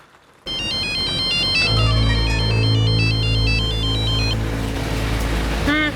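A mobile phone ringtone plays in an indoor drama scene, a loud repeating electronic melody of bright tones that runs for several seconds after a quiet start, then cuts off.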